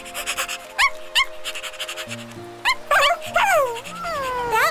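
A cartoon puppy whimpers and yips in short, high, rising cries, close and fairly loud, alone over light background music.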